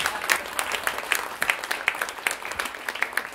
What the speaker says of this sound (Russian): Похлопаем молодому человеку.